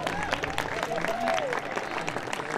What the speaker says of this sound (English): Please give a round of applause for Owen Nickerson.